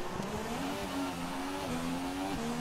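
An F1 car engine on an out-lap in the F1 2017 video game at the Azerbaijan Grand Prix, a steady high-pitched whine rising and falling slightly as it gears through, heard alone at moderate distance.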